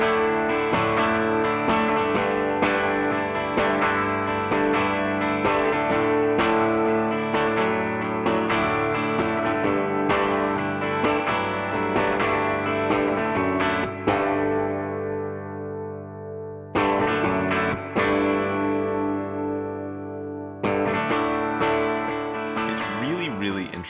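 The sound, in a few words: crunchy electric guitar through tube amp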